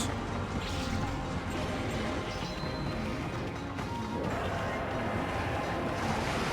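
Rushing water and surf-like wash from the video game Okami, a steady broad roar with wind-like noise, running continuously with faint voices beneath.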